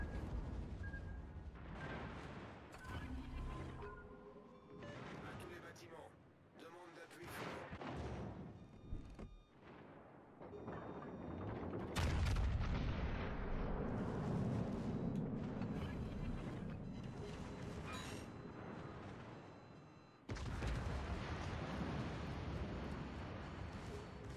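Naval artillery fire in the World of Warships Legends video game: heavy booms and rumbling blasts keep rolling through, with dense sustained explosions in the middle and a sharp jump in loudness near the end.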